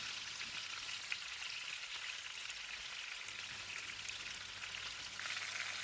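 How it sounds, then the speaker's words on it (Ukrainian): Pieces of rabbit meat sizzle and spit as they are turned in a hot pan of oil, a steady soft crackle with occasional pops, close but fairly quiet, no talking. "Шматочки м'яса перевертаю на сковорідці і присмажую з іншої сторони."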